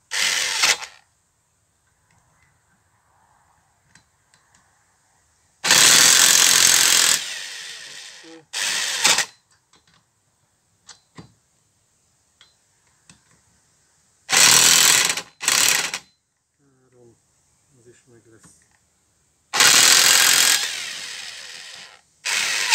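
Cordless electric impact wrench loosening car wheel nuts on a raised car during a wheel change, with loud rattling bursts of hammering, a few seconds each, separated by quiet pauses with faint handling clicks.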